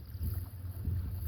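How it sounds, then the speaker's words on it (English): A gust of wind sweeps over open canal water, a low buffeting rush with microphone rumble that swells and fades over a brief moment, with no voices. "wind gust."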